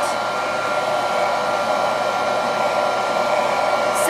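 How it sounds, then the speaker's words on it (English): A hair dryer blowing steadily at close range while hair is dried downward along the shaft, a loud even whoosh lasting the whole stretch with no voices. "you blow dry your hair, you always want to go down the hair shaft like so"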